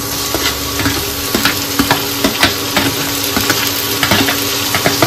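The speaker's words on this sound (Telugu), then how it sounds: "ఇవి లైట్ బ్రౌన్ కలర్ వచ్చేంత వరకు కొంచెం ఫ్రై కావాలన్నమాట" Chopped ingredients and tomato pieces fry toward light brown in a pan for a bachelor-style chicken dish, loud dense sizzling with rapid rhythmic spatula scrapes and taps, close up and unbroken by speech.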